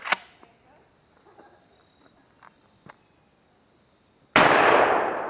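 Hi-Point .40 pistol shots outdoors: one sharp crack at the start, faint clicks and a quiet pause, then a second loud report at the end.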